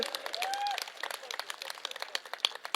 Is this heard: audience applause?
yes